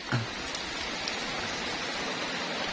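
Rain falls steadily on a rural farm, heard from indoors through a window: an even, moderate patter and wash of drops with a few brief nearby drips and no voices.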